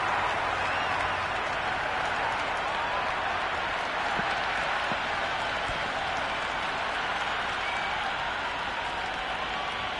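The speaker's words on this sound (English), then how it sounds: "The crowd are really getting quite raucous." A cricket crowd in a stadium applauds and cheers, a dense, steady wash of clapping and crowd noise that holds for the whole stretch without letting up.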